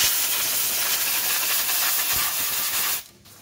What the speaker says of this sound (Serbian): Sad ću probati pustiti vodu da vidimo da li pušta.